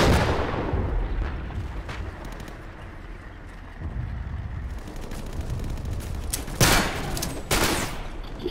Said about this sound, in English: Just watch that tank fire.